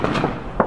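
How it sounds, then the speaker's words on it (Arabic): A downed military helicopter explodes over a military transport airport, giving loud, rough blasts with a sharp burst near the end and no voices. "تفجير طيارة مروحية فوق مطار من النقل العسكري"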